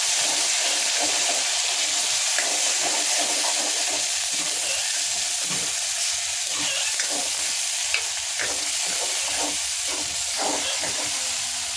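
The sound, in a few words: roasting ground masala paste in a pan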